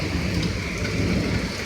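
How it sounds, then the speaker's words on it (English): Heavy rain pours down in a steady, loud, dense roar that fills the whole short stretch, with a low rumbling undertone and no voices. "Look at all that rain."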